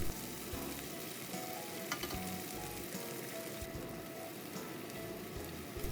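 Two eggs fry in a hot wok alongside chicken, a dense close crackling sizzle running steadily, punctuated by a few sharp clicks and light spatula scrapes.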